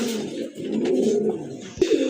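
A pair of domestic pigeons coo steadily in a low, continuous murmur that is close and fairly loud, broken by a brief sharp knock near the end.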